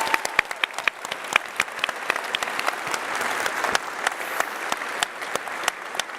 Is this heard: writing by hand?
no